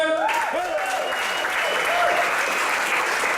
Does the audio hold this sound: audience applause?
yes